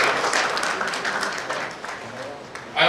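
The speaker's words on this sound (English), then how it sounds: "Let's give him a good round of applause" A round of applause from an audience at a public event, a steady crowd clapping wash lasting nearly three seconds with a voice audible underneath, ending in a louder burst.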